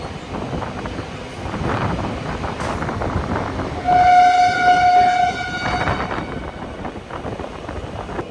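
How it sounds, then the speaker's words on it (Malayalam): The Dauladhar Express to Pathankot rumbles at a station platform, carriages clattering steadily, then a loud sustained horn blast rings out in the middle before the rolling train noise continues. "രാത്രി നമ്മൾ പട്ടാൻകോട്ടിലേക്ക് പോകുന്ന ദൗളാദർ എക്സ്പ്രസ് എന്നാണ് ഈ ഒരു വണ്ടിയുടെ പേര്"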